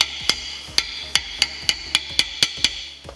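A rubber hammer taps a brake pad into place on a Porsche Cayenne front brake, about ten sharp, evenly spaced knocks, close and clear, with no talk.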